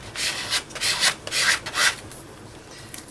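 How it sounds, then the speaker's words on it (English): Short rhythmic scrapes of a credit card dragged across an art journal page coated with Vaseline resist, five or six close, bright strokes in quick succession before trailing off into quiet. "scrape it with my credit card, or Maya card"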